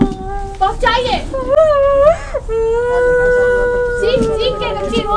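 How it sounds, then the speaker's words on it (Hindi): A young girl cries loudly and continuously close by, her wailing voice rising and falling in long sobbing cries with brief breaks, in a medical institute setting in Patna. "बच्ची रो रही है"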